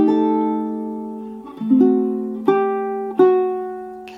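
Fingerstyle ukulele plays a slow jazz ballad phrase, a sustained chord followed by a few plucked notes and two more struck chords, close and clean with no voices.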